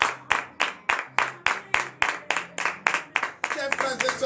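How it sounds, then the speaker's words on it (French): A church congregation at a Saturday morning prayer service in Benin claps in a steady rhythm, about a dozen crisp claps before breaking into looser scattered applause, with voices underneath. "donnez de vivre acclamation à notre Seigneur Jésus"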